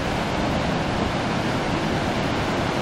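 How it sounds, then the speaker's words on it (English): Ocean waves roar at the Columbia River South Jetty, a dense, unbroken wash of surf noise that stays loud and steady from start to finish with no voices. "that's the roar of the ocean."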